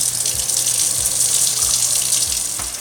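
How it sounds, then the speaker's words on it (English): Room-temperature tap water runs into a plugged, clean kitchen sink with a loud, steady, close rushing splash that continues unbroken throughout. "Plug it up and fill it with room temperature water."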